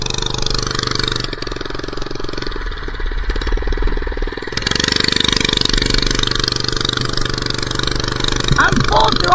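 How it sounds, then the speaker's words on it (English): A small minibike engine runs at full throttle with a buzzy, continuous drone and intermittent popping backfires, recorded close from the rider's position while he talks over it. "I'm full throttle. Ooh, we got the pop. We got the backfires going."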